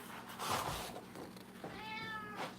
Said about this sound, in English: Send that cat outside, will you?